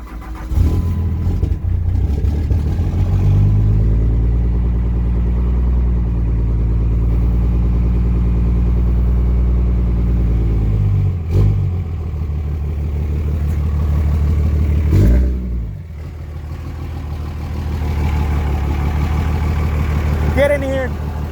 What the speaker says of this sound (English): We're gonna go ahead and fire her up and open up the engine so you guys can see it.